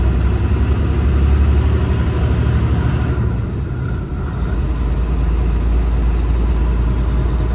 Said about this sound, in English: That's the hardest this engine has had to work since we rebuilt it.